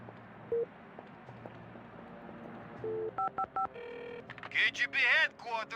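Touch-tone keypad beeps from a video game phone dial out a number, a scattered string of short tones that speed up into a quick burst at the end, over a faint background hum.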